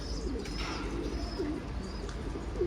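A pigeon coos softly in a few repeated low, rolling calls, fairly close, over a quiet background hum with no talking.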